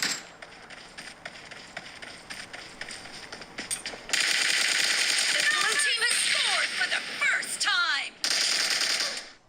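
PUBG gunfire played through iPhone speakers, bursts of rapid shots and sharp cracks over busy game ambience, growing louder and denser partway through, with voices mixed in.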